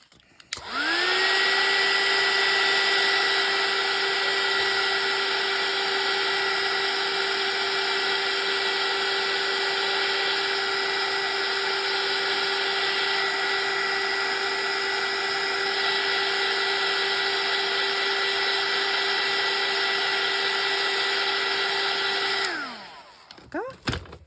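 A heat tool or dryer blows on wet paint on a tracing paper envelope, running as a loud steady whine for over twenty seconds before powering down at the end, close and alone.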